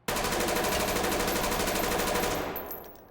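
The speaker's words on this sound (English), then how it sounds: "Let's try full auto" Sustained full-auto rifle fire in the tactical shooter Ready or Not, a dense, loud rattle of rapid shots running steadily for about two and a half seconds before cutting off and fading into a short tail.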